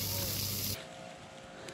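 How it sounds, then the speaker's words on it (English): A garden hose with a regular spray nozzle soft-washing a roof: steady, loud hissing spray that cuts off abruptly partway through, leaving quieter background hiss and hum. "He's just using a regular, just a good old spray nozzle."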